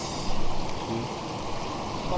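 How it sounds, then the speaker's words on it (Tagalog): Water trickles and flows steadily out of rain-soaked, collapsed landslide soil and broken rock at an outdoor spot in Mindoro, a close, continuous wash of running water with no one speaking. "Kasi na lumalabas yung tubig"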